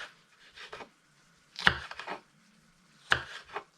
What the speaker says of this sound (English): let's just cut up mango flesh and skin